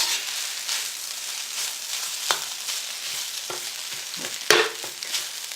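Thai spring roll filling sizzles and crackles in a hot pan, a steady hiss with a few stirring scrapes and clinks over it, close and with no voices.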